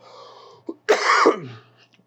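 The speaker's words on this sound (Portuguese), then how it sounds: "eu tô com um pigarro que tá cada vez maior" A single harsh, close throat clearing, a short rasping hack after a faint lead-in, heard alone without speech.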